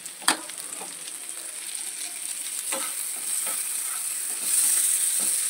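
Chopped tomatoes added to onion, ginger and chilli frying in a pan for pav bhaji, a constant hissing sizzle with a few sharp stirring clicks, growing slightly louder near the end.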